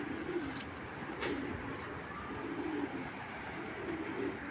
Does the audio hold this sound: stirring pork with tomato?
no